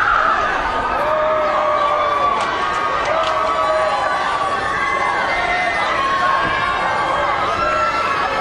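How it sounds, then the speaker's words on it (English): A large crowd of fans outside the 2005 Michael Jackson court verdict cheers and shouts as he walks out, a dense, steady roar with whistles and high yells rising over it, and talk blended in. "walking out, and the crescendo grows from his fans."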